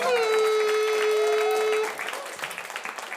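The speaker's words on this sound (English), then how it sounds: "Give them a huge round of applause as they make their way off the stage" A studio comedy-show audience claps as comedians walk off stage, the applause broad and steady with a sustained musical tone riding over it at first, then thinning into scattered claps.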